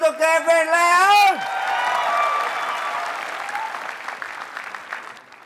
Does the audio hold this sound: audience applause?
yes